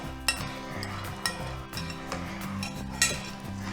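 A spoon stirring milk in a pot scrapes and clinks against the metal in a continuous, uneven rhythm, with a few sharper knocks standing out over a low steady hum.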